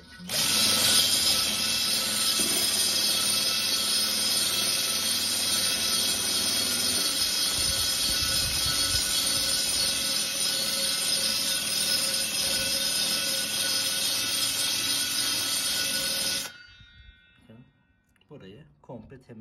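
Power tool fitted with a wire brush scouring a car wheel rim ahead of sanding and painting, a loud sustained whine and grinding buzz close up that cuts off abruptly near the end, followed by quieter clatter.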